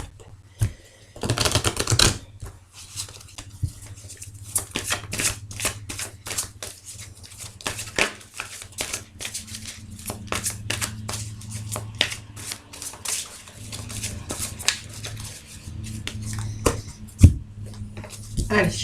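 A deck of cards being shuffled and handled in rapid, crisp riffling bursts and taps, close and dry, while a voice talks quietly in the background.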